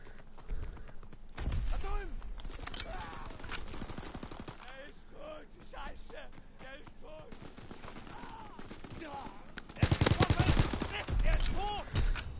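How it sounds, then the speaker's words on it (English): Gunfire in a World War II shooter game: repeated sharp shots and automatic bursts, loudest in a heavy burst near the end, mixed with game effects and someone talking in between. "Fuck it, gonna shoot him anyway."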